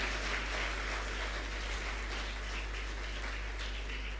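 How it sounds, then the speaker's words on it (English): Audience applause at a moot court inaugural function, a steady continuous patter of many hands clapping over a low constant hum, moderately loud and without pauses. "again, a big applaud for her."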